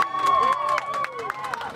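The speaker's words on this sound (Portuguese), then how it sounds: "A demolição do primeiro barraco da favela Marte contou com aplausos dos moradores." Residents of the Marte favela clap and cheer at the demolition of the first shack, with scattered claps, shouts and voices mixed with nearby speech over an outdoor crowd.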